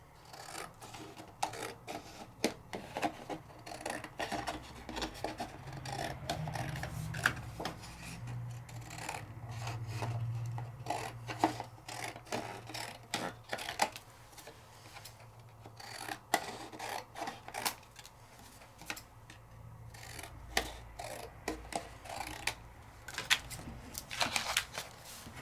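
Paper is trimmed by hand at a craft table, likely with scissors, in a steady run of soft rasping and snipping strokes that continues through the whole stretch at moderate, even loudness, with no talk.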